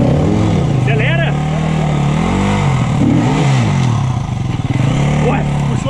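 A Yamaha XTZ 300F trail motorcycle engine revs on a dirt trail, rising and falling in repeated throttle blips, loud and close, with voices talking over it.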